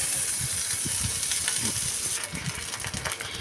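Onions and dried chillies fry in a pan with a steady sizzling hiss and faint stirring scrapes, with no talking.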